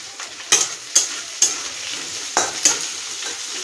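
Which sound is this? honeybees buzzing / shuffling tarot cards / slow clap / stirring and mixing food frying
stirring and mixing food frying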